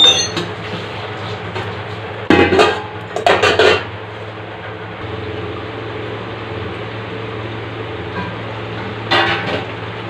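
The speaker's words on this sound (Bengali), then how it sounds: "জল দেওয়ার পর ঢাকা দিয়ে নেব।" A lid is set onto a cooking pot after water is added to a Bengali rohu fish curry with potato and pointed gourd, giving a few sharp metallic clanks and rattles against a steady kitchen hum, with another brief clatter later.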